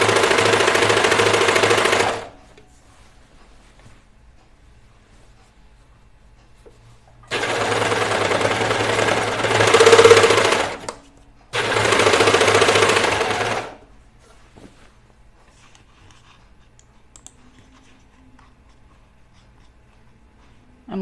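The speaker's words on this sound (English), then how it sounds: "How is the sound, you guys, with the serger?" A serger overlock sewing machine stitching a dress in three loud, steady bursts, with quiet pauses between runs.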